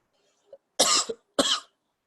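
A man with a cold coughs twice, close and clear, the second burst following after a short pause, with a faint throat sound just before.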